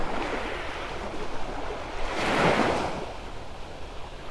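Small ocean waves wash onto a beach at daybreak at Vanderbilt Beach in North Naples, Florida, a steady surf hiss with wind noise that swells to a louder, nearby breaking wave in the middle before settling back.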